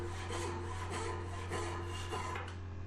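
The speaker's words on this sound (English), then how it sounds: "I also saw the straight stepped area with the bow saw as well." A bow saw cuts the straight stepped edge of a hand-carved wooden table top in steady back-and-forth rasping strokes, close and fairly quiet, with no voices.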